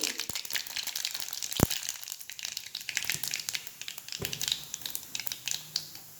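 Mustard seeds and cumin sizzle in hot oil for Marathwada-style puri bhaji, a steady crackling fry with sharp pops and scattered crisp bursts throughout.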